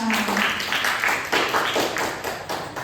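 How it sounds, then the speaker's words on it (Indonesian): Clapping from an audience at the close of a village community meeting, a short burst of scattered hand claps with uneven rhythm, moderately loud and close. "mari kita beri tepuk tangan yang paling meriah untuk kita semua"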